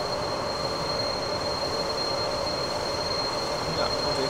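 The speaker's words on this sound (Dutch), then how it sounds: "Moeten we even wachten totdat die trein aan ons voorbij is gegaan." A train passes on the Köln to Düsseldorf line in Train Simulator 2014, producing a steady, loud rumble with a squealing wheel tone that carries on unbroken throughout.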